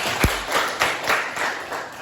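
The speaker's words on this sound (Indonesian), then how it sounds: "tepuk tangan" A few scattered hand claps in a classroom lesson, with distinct sharp slaps at uneven intervals over a low background murmur, rather than sustained applause.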